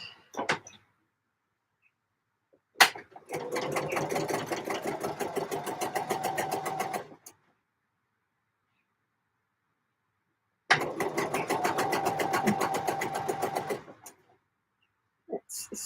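A sewing machine stitches dress back pieces in two long runs of rapid, steady mechanical whirring, separated by silence, with a brief click at the start of each run.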